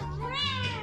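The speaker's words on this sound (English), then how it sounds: "Little kitten, hey Mimi, what can you say?" A small kitten gives a single short meow, close and clear, with a rising then falling tone and no talk over it.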